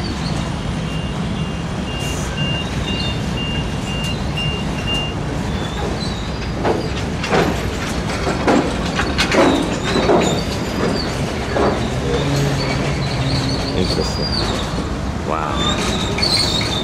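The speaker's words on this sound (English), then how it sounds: "we're looking at this train, and this train has all of these tanks" A freight train carrying military tanks rolls past at close range, with steady rumbling, clanking wagons and high wheel squeals rising over the noise, and someone speaks briefly.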